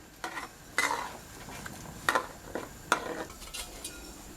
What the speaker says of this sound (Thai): คนให้เข้ากันก่อนนะครับ กับน้ำที่เราตั้งไว้เมื่อกี้